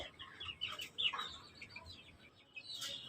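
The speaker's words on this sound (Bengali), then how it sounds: "আমার টাইগার মুরগি এবং দেশি মুরগি অনেক বাচ্চা আছে" Tiger and native chickens cluck softly in a quiet coop, scattered calls and a few higher chirps from chicks, fairly faint and close.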